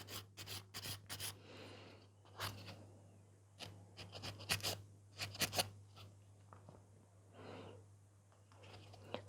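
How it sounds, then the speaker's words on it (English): A nail file rasps against the side walls of a gel nail extension in short, irregular strokes, close and quiet, with brief pauses between bursts of scraping. "So still filing the side walls"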